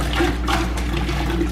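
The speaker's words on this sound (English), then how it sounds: "So we're gonna pour that into this bucket." Sanitizer solution poured from a 5-gallon (20-liter) glass carboy into a bucket, a steady, close splashing gush of liquid running continuously throughout.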